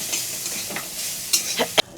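Cabbage leaves frying in a pan, a steady sizzle with a few stirring scrapes and knocks from a utensil, close up, ending in a sharp clack before the sound cuts away.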